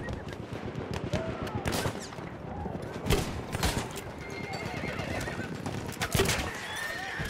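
Gunshots in a Name of the Tsar multiplayer map, sharp cracks scattered through a busy scene with horses whinnying and hooves clip-clopping, while a player talks over it.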